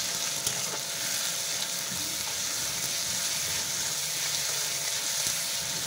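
Tomatoes with salt fry in a pan, giving an even, continuous close sizzle and hiss throughout with faint stirring underneath.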